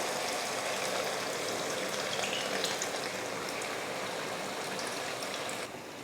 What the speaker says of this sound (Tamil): இப்போ புளியை ஊற்றிக்கலாம்.